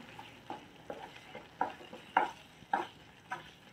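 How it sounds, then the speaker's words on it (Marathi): A spoon works a thick mango barfi mixture made from mango pulp in a pan, giving eight or so soft, evenly spaced scraping strokes with a faint sizzle between them. "आता तुम्हाला दिसत असेल आपण सारखं त्याला मिक्स करतोय."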